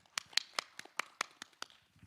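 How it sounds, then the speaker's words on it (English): Applause from an audience at a youth competition grand finale as a winner is announced: about nine sharp, separated claps in a sparse, uneven rhythm, fairly quiet and close, with no talking. "Round of applause for Winnie, please."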